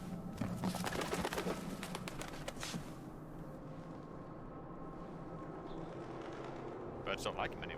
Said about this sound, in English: Birds don't like him anymore.